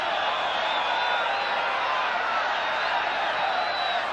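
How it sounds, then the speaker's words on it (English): A football stadium crowd at a Torpedo Moscow versus Manchester United UEFA Cup extra-time match roars in a steady, dense wall of voices appealing for a penalty, loud and sustained throughout without pause. "The crowd wanted a penalty."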